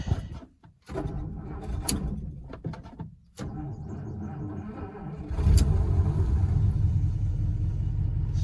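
A Mercedes drives over a rough gravel road past crop fields, with a low, steady rumble, engine drone and crunching tires, and a few louder jolts and bumps.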